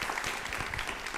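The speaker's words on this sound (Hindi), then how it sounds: "संगीता जी के लिए एक बार जोरदार तालियां।" Audience applause for a woman named Sangeeta at a talk on women's safety and police station procedures, a short steady burst of clapping from a crowd with no pauses.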